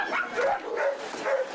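A crowd of rescued dogs of mixed ages and breeds barks and yips at an emergency shelter, the overlapping barks repeating in quick succession and fairly close, with no voices over them.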